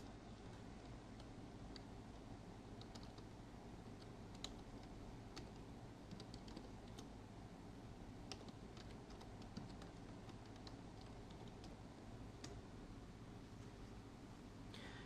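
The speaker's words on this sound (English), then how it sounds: "please type Eiffel Tower, Paris, France in the search text box" Soft clicks of a computer keyboard as a location is typed into a search box, a quiet irregular patter of keystrokes over faint background hum, with no talking.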